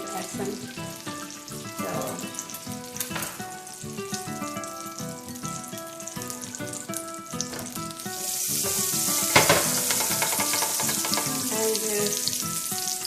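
Butter and canola oil sizzle steadily in a pan, the frying growing louder and brighter toward the end, with a few brief spoken words.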